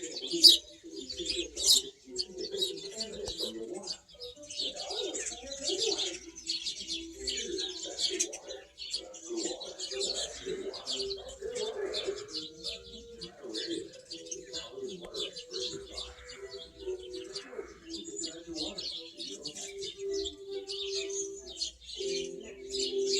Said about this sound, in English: But that's what a dove looks like, FNF from PA. We have mourning doves, we have these kind.